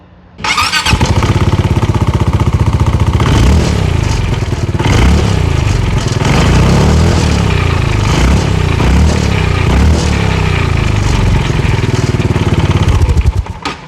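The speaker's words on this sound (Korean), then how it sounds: "애초에 머플러 배기음이 우렁차다" A Zontes quarter-class scooter engine starts and idles loudly with a deep, throaty exhaust burble from its stock muffler, revving a few times, close up and continuous.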